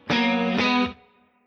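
Electric guitar with chorus and reverb plays two sustained, distorted notes back to back, loud and close, then rings out into a fading tail with no talk.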